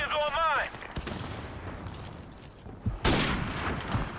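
Gunfire in a Call of Duty Modern Warfare Remastered match, with a sharp shot near the start and another heavy report about three seconds in, amid battle noise and someone talking.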